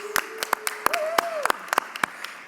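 Scattered hand claps from a small meeting group ring out in a quick, uneven run of about a dozen sharp strikes, with a thin steady tone and a voice underneath.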